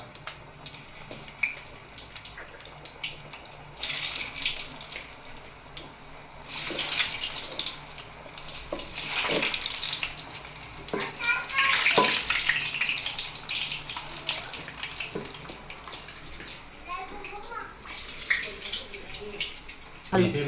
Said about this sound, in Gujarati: એટલે હવે ગોળી તળવામાં મૂકી દઈએ